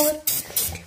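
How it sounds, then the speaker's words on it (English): Short aerosol spray can bursts aimed at stuck glue on a vacuum motor, two or three quick hisses close to the microphone. "So we got this spray. Mm-hmm. We're gonna spray it."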